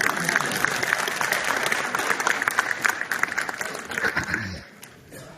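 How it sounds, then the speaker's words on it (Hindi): Audience at a public address with a governor present clapping loudly on request, sustained dense applause with a few voices mixed in, fading out near the end. "तो ताली मारना है, जोर से मारो"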